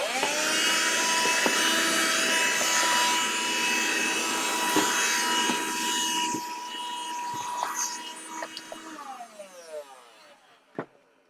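A power tool whines steadily as it grinds wood off a guitar body, then winds down and spins to a stop near the end, with a few knocks.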